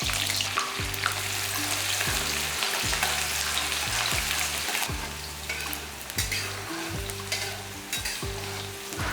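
Shallots, curry leaves and peppercorns frying in oil for a Chettinad chicken curry, a steady close sizzle with stirring and scraping in a regular rhythm throughout, no voices.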